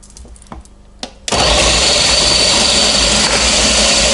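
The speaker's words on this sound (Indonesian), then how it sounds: "Jadi tinggal mesin yang bekerja. Masukkan semua bahan-bahan dan tinggal mixer." An electric mixer beats banana cake batter made with peeled bananas and all the ingredients mixed together. A few faint knocks come first, then the motor starts with a loud, steady whir that runs continuously to the end.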